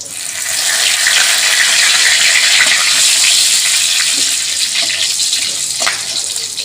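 Whole cardamom, bay leaf, cinnamon and cumin hit hot oil in a pan after potatoes were fried, giving a loud, steady hiss that swells and then eases slightly, with no voices.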